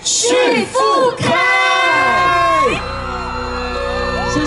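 An outdoor Christmas-season concert crowd at Zhunan Sports Park in Miaoli screams and cheers loudly for a singer, with overlapping shrill shrieks and whoops that settle into sustained cheering.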